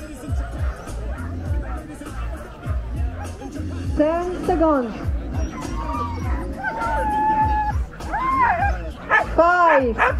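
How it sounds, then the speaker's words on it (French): Sled dogs at a mountain race bark and yip from all sides, with excited whimpers mixed in, while crowd chatter and a voice talk over them throughout. "les chiens de traîneau qui vont aboyer de tous les côtés"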